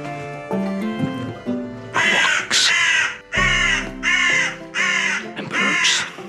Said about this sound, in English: The birds who live here and have kids, maybe. So they are kind of signing an alarm